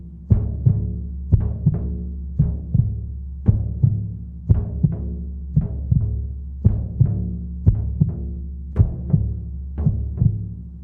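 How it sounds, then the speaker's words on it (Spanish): A steady heartbeat plays in the background, with soft, low double thumps repeating about once a second throughout, evenly paced and moderately loud, with no talking over it. "Este latido."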